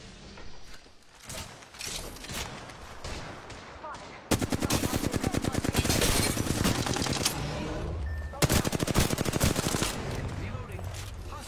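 Video game gunfire rattles in fast automatic bursts, building into dense sustained volleys in the second half, loud and close, with shooting mixed among other battle noise.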